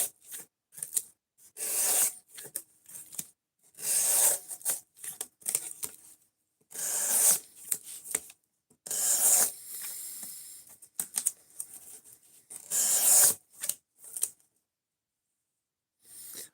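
A Spyderco Manix 2 Lightweight knife with a Maximet blade cutting through material in an edge-retention test, giving close, scratchy rasping bursts that repeat in irregular strokes with short pauses between them.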